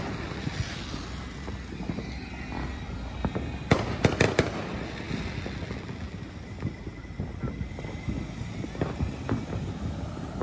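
Fourth of July fireworks burst outdoors in a rapid cluster of sharp, loud bangs, with scattered pops, crackles and wind buffeting the microphone around them.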